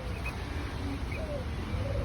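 Pigeons coo softly at Loang Baloq, a few low, gentle calls drifting over a steady outdoor background hiss with faint chirps from other birds.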